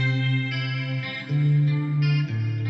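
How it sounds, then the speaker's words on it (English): Fingerstyle electric guitar drenched in reverb, sustained plucked notes and chords ringing out smoothly with a spacious, ambient wash, no voices over it. "We've got some fingerstyle electric guitar."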